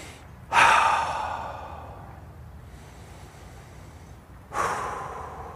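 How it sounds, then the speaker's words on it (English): A person takes two deep breaths during a body language and voice workshop, each a sharp, close inhale followed by a long, slowly fading exhale, spaced about four seconds apart, with no talking. "As best you can, take a couple of breaths."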